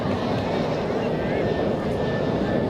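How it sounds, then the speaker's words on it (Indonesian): An airplane flies overhead during an outdoor religious lecture gathering, a loud, steady engine drone that fills the whole stretch with muffled voices beneath it. "apakah pesawat ini nggak bisa dialihkan penerbangannya?"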